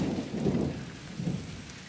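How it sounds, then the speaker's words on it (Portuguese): Low rolling thunder from an approaching November storm in the Brazilian northeast, rumbling in two swells over a steady wash of rain and wind, with no one speaking. "Trovoado de novembro tá chegando."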